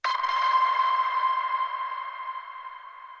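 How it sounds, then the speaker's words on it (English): A single bright synthetic ping rings out and sustains with a clear steady tone, slowly fading over a few seconds, alone. "my hook or my signature sound was this ping that was from the sample library"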